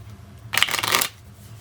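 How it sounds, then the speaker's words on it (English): A deck of cards riffle-shuffled during an Arkham Horror tabletop game: one crisp, rapid burst of flutter and snap lasting about half a second, close and clear against a quiet room. "So I'm supposed to take this, shuffle it into here"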